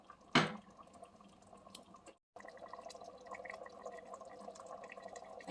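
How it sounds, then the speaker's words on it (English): Water poured into a cooking pot of dinuguan: a brief splash at the start, then quiet, faint trickling and dripping that continues softly after a short silent gap. "So we're just gonna add a little water"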